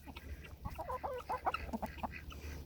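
A backyard hen clucking up close, a quick run of soft, uneven clucks and murmurs over a low background hum.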